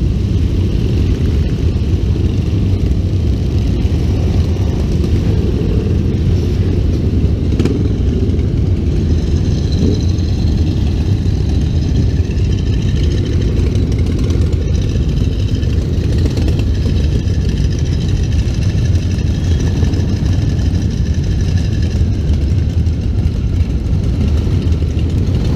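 Custom motorcycle engines idle together nearby, a loud, steady low rumble that never lets up, with no talking.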